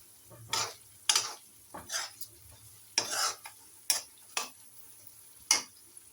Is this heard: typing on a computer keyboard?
no